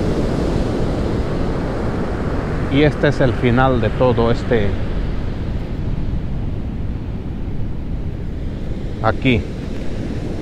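Ocean waves wash onto the beach at Oxnard, California, a steady rough rumble and hiss of surf mixed with wind across the whole stretch, while someone speaks briefly over it.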